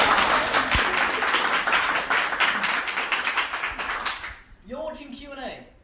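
An audience at a university arts revue comedy show claps loudly for about four seconds, the applause fading out before a voice begins speaking.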